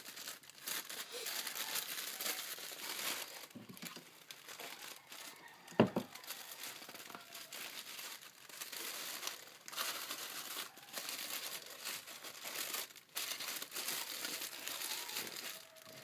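Paper or foil decorations for a character-themed party centerpiece crinkling steadily as they are folded by hand, close and fairly quiet, with soft rustles and one brief sharper crackle partway through.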